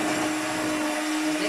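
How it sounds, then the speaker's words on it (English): Electric beater whirring steadily through shortbread cookie dough, a continuous close motor drone with a steady pitched hum throughout, no voices. "I think I'll do it with a beater"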